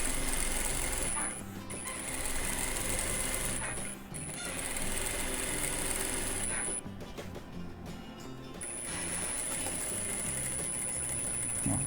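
A sewing machine stitches a dish towel border in fast, continuous whirring runs broken by short pauses, close and steady, with brief talking in between.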